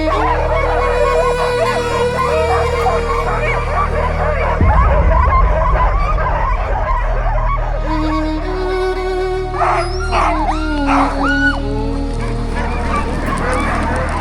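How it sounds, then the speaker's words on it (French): Excited sled dogs in Lapland during Arctic winter, waiting before a dog sled ride. A loud, continuous chorus of yelps, high howls and barks comes from many dogs close by. "Très vite, les chiens s'agitent, l'excitation monte."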